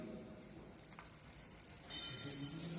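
Galouti kebabs shallow frying in melted ghee in a kitchen, a steady close sizzle and crackle that grows louder partway through.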